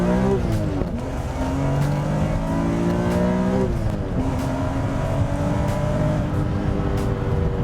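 A loud, close 2002 BMW M Coupe with the S54 engine revs up and drops back through several gear shifts, roaring continuously throughout.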